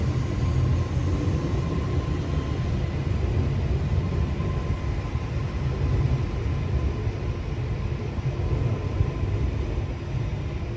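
A commuter train pulls out of Partickhill station with a steady, fairly loud rumble and rail roar that continues without a break.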